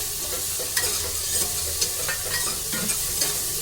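Chili frying in a pan for dal gives a steady, dense sizzle, while a spoon stirs it with light, regular scraping clicks, close and with no talk.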